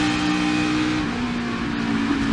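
A NASCAR Cup Series race car engine heard on board drones loud and steady as the driver lifts off the throttle, the pitch easing slightly, with road and wind roar beneath and no talking.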